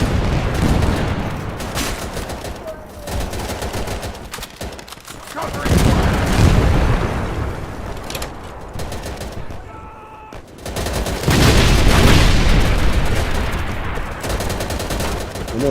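Gunfire and grenade blasts from the World War II shooter Easy Red 2 on Xbox: sustained machine-gun and rifle fire with heavy booming explosions, loud and close, easing briefly before a fresh burst of shooting.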